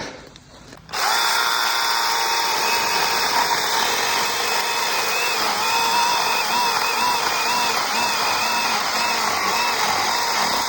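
After a brief quiet moment, a Makita DUC150 cordless mini chainsaw starts up and runs loudly and continuously cutting a log over 20 cm thick, its whining motor pitch wavering slightly.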